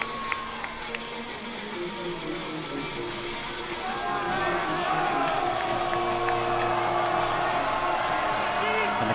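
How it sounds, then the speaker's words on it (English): A crowd at a high school football game cheers and roars steadily, rising louder partway through, with a game announcer's voice faintly audible over the broad crowd noise. "And the crowd that's here making some noise."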